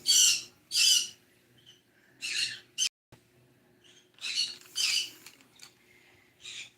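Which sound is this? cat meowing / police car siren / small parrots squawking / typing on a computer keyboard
small parrots squawking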